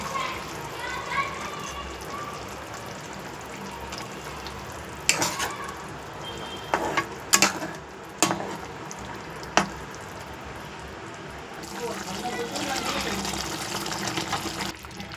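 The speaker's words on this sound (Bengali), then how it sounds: "এবারে দিয়ে দিলাম বেগুনগুলো এই পর্যায়ে আমি গ্যাসের ফ্লেমটা একটু আস্তে করে দিলাম" Eggplant pieces drop into hot oil in a pan and fry over a lowered gas flame. A steady sizzle and bubbling is broken by a few sharp clanks of a utensil against the pan, with talking over part of it.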